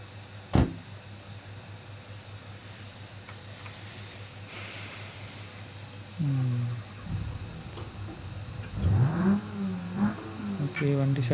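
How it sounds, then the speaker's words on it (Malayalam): A stock-exhaust car is started and revved while parked near a lorry used for its delivery, with a hissing wash and rising engine tones near the end, under talk. "ഓക്കെ, വണ്ടി സ്റ്റാർട്ടായിട്ടുണ്ട്."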